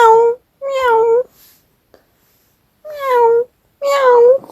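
Four drawn-out, whiny meows from a small cat, clear and close, in two pairs separated by a short quiet gap.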